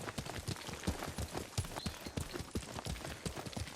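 Horse hooves in Ghost of Tsushima while riding, a quick, steady clip-clop of rapid hoofbeats on the ground, close and continuous for several seconds without any speech.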